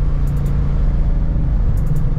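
A Shelby GT500 engine droning steadily inside the car while driving, a continuous low rumble with slight fluctuations and no distinct revs or shifts.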